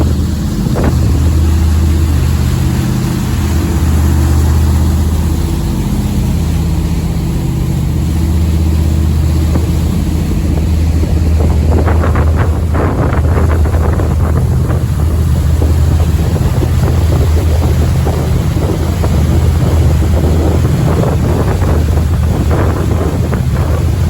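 A 1984 Tollycraft 43 motor yacht cruising near Vancouver BC: a steady low engine drone under loud, continuous wind buffeting and rushing water, with no voices.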